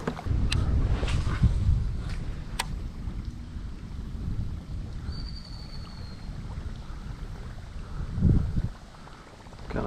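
Wind gusting over open water on a smallmouth bass fishing trip, a steady broad rushing roar with buffeting low rumble and a stronger gust near the end, no voices.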